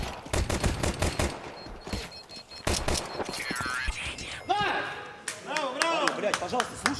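Pistol gunfire rings out in a professional Counter-Strike match on the Anubis map, with rapid, sharp shots clustered early and caster commentary talking over the game sounds.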